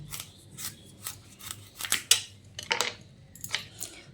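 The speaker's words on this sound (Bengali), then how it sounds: "প্রথমে আমি এই কুমড়োটাকে হালকা করে খোসা ছাড়িয়ে ছোট ছোট টুকরো করে নেব" A knife peeling and cutting a pumpkin into small pieces, a series of crisp close snips and scrapes at an irregular pace, quiet and without speech.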